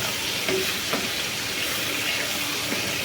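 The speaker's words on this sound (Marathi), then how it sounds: "बघू शकता छानपैकी फ्राय करतोय." Chicken biryani ingredients frying in a pan, a loud, close, steady sizzle with faint stirring scrapes throughout, no voices.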